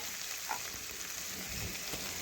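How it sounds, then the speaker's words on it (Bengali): Chopped tomato frying together with onion in a pan gives a soft, steady crackle and sizzle, fairly faint, with no voices. "টমেটো একটু পেঁয়াজের সাথে ভেজে নিচ্ছি।"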